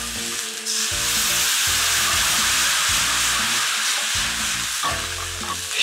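Loud, constant sizzling and hissing as brandy hits a hot frying pan of trout fillet, with rhythmic scraping or stirring pulses underneath; no voices.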